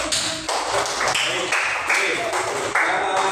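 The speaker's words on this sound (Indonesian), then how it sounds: "tepuk tangan untuk kita semua ya" A classroom group claps together in quick, even bursts, with a short spoken word near the start.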